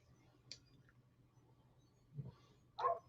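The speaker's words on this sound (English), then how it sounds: "Oh, there's dogs." Neighborhood dogs barking in the distance, a couple of short faint barks scattered over a quiet background with a low steady hum.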